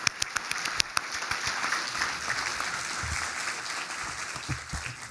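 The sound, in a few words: round of applause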